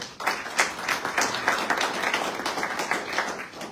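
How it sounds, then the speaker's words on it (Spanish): A room of attendees at a book presentation breaks into lively, uneven clapping, individual claps distinct and close, rising and falling over a few seconds. "Un fuerte aplauso, por favor."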